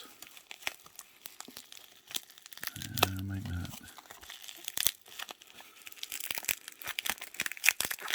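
Crinkly plastic bubble wrap packaging rustles and crackles in irregular bursts while a person talks nearby, with a louder crumpling flurry partway through.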